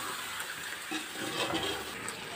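Chicken cooking in curd in a pot while being stirred, giving a steady close sizzle and bubbling hiss with soft wet stirring movement and no talking.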